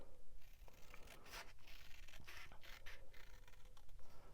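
Quiet, close snipping and scratchy rasps of small microtip scissors cutting paper, several short cuts in irregular succession.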